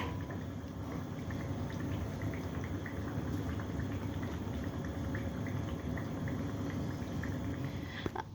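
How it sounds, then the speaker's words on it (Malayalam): Chicken croquettes frying in hot oil, giving a steady, dense crackle and sizzle with a few fine pops, close and continuous throughout. "അപ്പോൾ അപ്പുറത്തെ സൈഡിലും ഇങ്ങനെ തന്നെ കളറാവുന്ന വരെ നമുക്കൊന്ന് ഫ്രൈ ചെയ്തെടുക്കാം"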